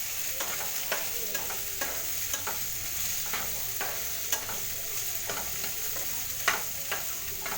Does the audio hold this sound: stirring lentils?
yes